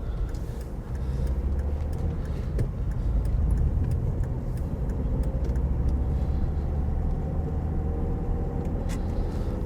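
A car drives through the small-town streets of Folkestone, with a steady low engine rumble and road noise from inside the cabin and light ticks and rattles over it, and no talking.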